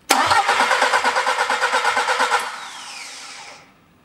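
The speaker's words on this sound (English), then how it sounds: "and I'm cranking the engine." A car engine cranks with a rapid rhythmic chugging for about two seconds while a pressure tester is connected, then the starter cuts out and the sound winds down to silence.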